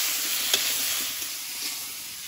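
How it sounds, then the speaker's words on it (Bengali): Potatoes frying in oil with turmeric in a pan, a steady close sizzle with faint stirring scrapes and no talking. "তেল দিয়ে দেবো, আলুটা দিয়ে দেবো, হলুদ দিয়ে দেবো"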